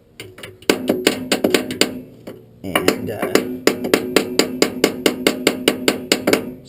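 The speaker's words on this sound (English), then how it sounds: "and I'm just working them around with the hammer" Steady hammer taps drive bearing cups into the inner race of a Bobcat, a sharp rhythmic series of near, loud metallic strikes, about two or three per second, with a short pause early on and a brief spoken word.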